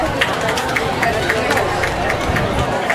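A crowd at a Philippine festival claps and murmurs for a family parading in traditional Mindanao costumes, steady dense applause with chatter and a loud announcer-style voice nearby.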